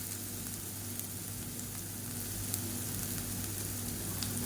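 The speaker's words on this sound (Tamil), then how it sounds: "இந்த ரசப்பொடியை சேர்த்துக்கலாம். சேர்த்துட்டு லேசாக வதக்கி விட்டுக்கலாம்." Rasam powder and asafoetida sautéing in oil in a pan, a steady, even sizzle and crackle throughout, close and continuous with no talk.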